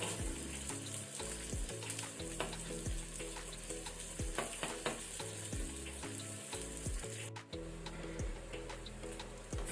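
Green chili, garlic and ginger frying gently in a pan over a low flame, giving a steady soft sizzle with scattered light ticks and clinks of a spoon stirring throughout, no voices.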